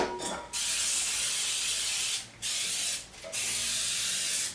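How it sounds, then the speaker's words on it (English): PME cake release spray hissing into a cake tin in three close, sustained bursts separated by short pauses, the last burst the longest. "all you need to do with the cake release spray is give it a good shake, and then you just spray the bottom"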